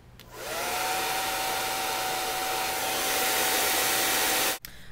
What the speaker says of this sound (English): Now it's time to use the hairdryer.